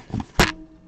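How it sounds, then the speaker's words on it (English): A cardboard box knocks against a camera during a live trading card break, a single close, loud thump after a soft rustle, brief and alone. "I hit the camera with the box"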